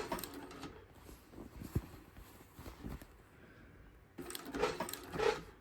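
A sewing machine stitches a tote bag in short bursts of rapid mechanical clatter separated by quieter pauses, with a louder run near the end.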